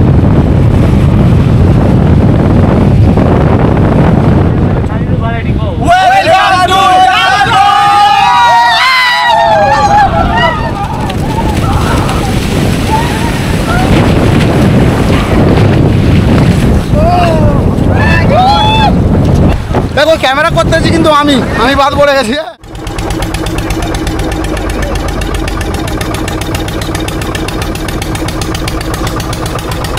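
Motor boat ride on the sea off Lalgunj beach, with steady wind rumble and engine noise running throughout, and people talking over it; a brief drop near the end before a steadier hum.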